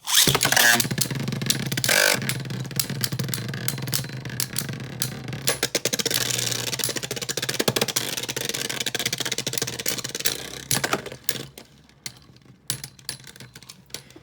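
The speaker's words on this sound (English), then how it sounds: "I'm just going to hand spin it and see what happens." A hand-spun Beyblade Burst Fafnir top whirs and rattles in a plastic stadium, with sharp clacks and scrapes of collisions throughout, close and busy before fading toward the end.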